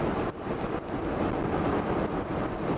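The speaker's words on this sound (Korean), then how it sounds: "바람 소리만 커지는데요" Steady wind rush and road roar inside an Audi e-tron Sportback 50 quattro electric car at speed, a continuous broadband hiss with no voices.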